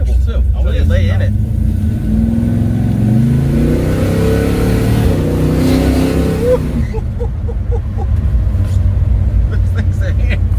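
A 1965 Chevrolet Chevelle SS with a ZZ502 crate engine, Detroit TrueTrac differential and 3-inch driveshaft accelerates hard, its loud deep roar rising in pitch through the run before dropping back to a steady rumble.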